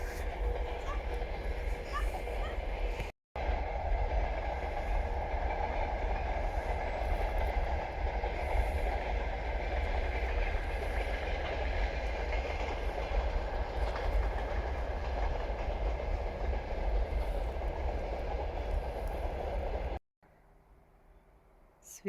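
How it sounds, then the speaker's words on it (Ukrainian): Train passing near a river at dawn in the countryside, a steady loud rumble with wheel clatter lasting most of the time before cutting off to quiet outdoor ambience, with no talk over it. "Потяг."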